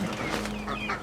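Chickens on a farm cluck steadily at close range, their busy calls layered over a noisy background.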